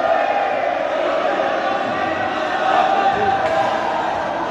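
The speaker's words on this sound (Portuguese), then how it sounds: "tem torcida uniformizada aqui no futsal" A steady wash of organized supporters chanting and cheering fills a futsal arena, a continuous crowd roar that stays loud and even, with a commentator speaking on top.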